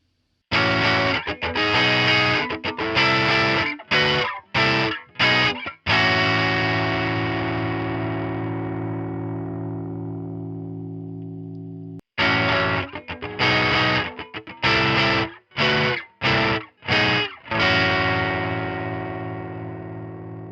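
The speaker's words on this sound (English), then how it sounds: "the diodes in a soft clipping circuit can change the character of the distortion" An electric guitar through a soft clipping diode distortion circuit plays loud distorted chords in choppy rhythmic bursts, with long sustained ringing between phrases and a brief pause midway.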